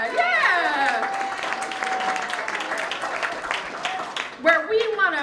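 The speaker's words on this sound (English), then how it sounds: "Yeah, applaud that" An audience at an MLK Day event claps in a short burst that rises beneath a speaker's amplified voice, with scattered cheers and the clapping staying moderate and mixed under the talk.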